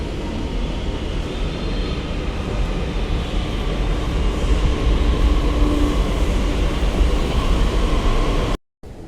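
A Delhi Metro train riding between stations: a steady, loud, continuous rumble and whine from inside the carriage, cutting out abruptly near the end.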